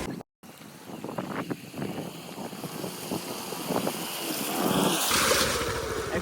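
A scooter rides through water along a muddy coastal track, with a broad rushing, splashing wash mixed with wind buffeting on the microphone, growing louder toward the end.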